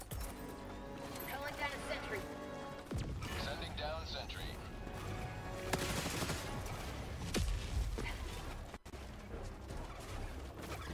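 Rockets launch and explode amid rapid gunfire in a chaotic online video game battle, with bursts of fire and blasts layered over each other while players talk throughout.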